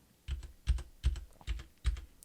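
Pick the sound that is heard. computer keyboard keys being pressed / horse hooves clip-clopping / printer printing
computer keyboard keys being pressed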